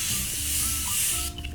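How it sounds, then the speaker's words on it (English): Makeup setting spray misted onto a face: one continuous close, bright hiss lasting over a second, then cutting off abruptly. "I'm gonna go and I'm gonna spray my face down one more time"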